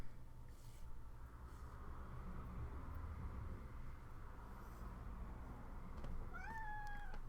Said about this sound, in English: I hope that's a kitty behind me